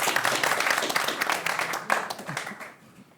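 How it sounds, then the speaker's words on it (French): An audience at a school open-day broadcast breaks into steady applause, dense clapping close to and filling the room for about three seconds before it thins out and fades near the end. "On applaudit."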